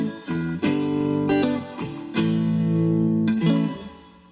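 A guitar plays several sustained chords drenched in reverb, each strum ringing out and blending into a lingering wash before fading at the end.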